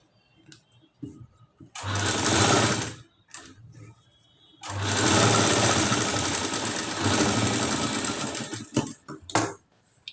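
A sewing machine stitches the lining of a katori blouse in two loud, steady runs, the first short and the second longer with brief pauses, the motor's hum close and clear.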